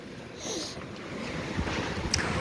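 Strong wind gusts against the microphone outdoors, a rushing, buffeting roar that swells and rumbles, with a few brief knocks.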